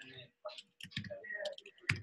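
Computer keyboard typing during an online English class session, a few quick light clicks mixed in with a person speaking close by.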